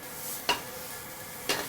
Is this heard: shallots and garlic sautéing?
yes